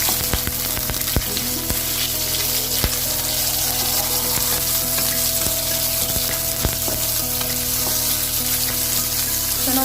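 Onion fries in splattering oil for shrimp and beef pansit noodles, a loud continuous sizzle dotted with sharp pops and crackles from spitting oil, close and uninterrupted.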